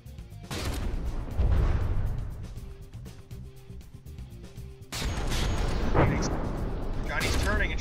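Loud booming explosions and rumbling blasts from a naval battle in the game From the Depths roll continuously, with a sharp louder burst partway through and dense low-end impacts throughout.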